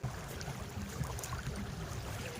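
A boat engine on a Sundarban river, out among shrimp-fishing boats, gives a steady, low rumbling drone that carries on without a break, moderately distant with faint water texture over it.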